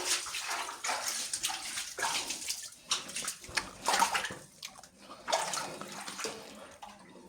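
Water sloshing and splashing inside a cave where fossilized human bones lie, a loud close run of repeated surges and washes with brief pauses between them, no talk over it.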